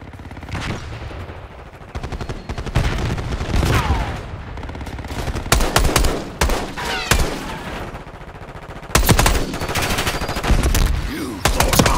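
Video game gunfire: loud, close bursts of rapid automatic shots and single cracks, repeating in clusters with brief pauses between them.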